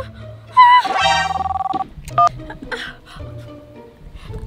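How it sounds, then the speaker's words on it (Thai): An electronic telephone ring sounds in a short warbling burst, followed by a brief second tone and scattered small noises nearby. "โทรศัพท์มา"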